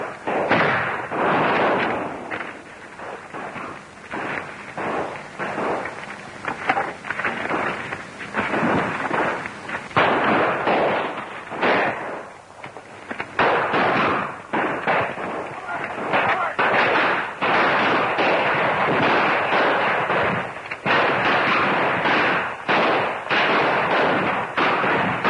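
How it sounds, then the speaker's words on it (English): Guns in a 1935 film serial roar in a dense, continuous barrage of loud, overlapping shots and booms, a rough, crackling battle soundtrack that keeps going throughout. "Those guns."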